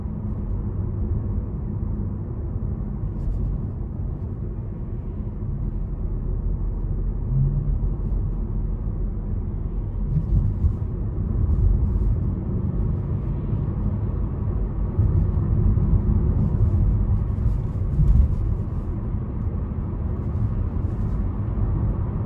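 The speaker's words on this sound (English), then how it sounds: "So now we're just driving in normal mode with the front wheels." A 2021 Chevrolet Trailblazer RS running on its front wheels only, with all-wheel drive switched off: steady cabin road rumble and low engine drone under way, continuous and even, with no talking.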